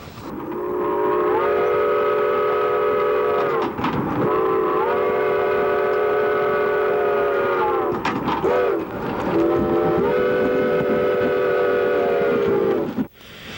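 Two steam locomotives doubleheading a train between Chama and Cumbres sound loud, long chime whistle blasts in a repeated pattern, with brief pauses between blasts over a steady rumble, no talk.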